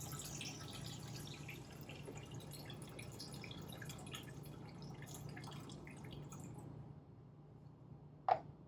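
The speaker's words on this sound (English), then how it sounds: "So we'll just add the water." Water poured into a sprouted-grain bread mix makes faint trickling with soft drips and squishes, then a single sharp click near the end.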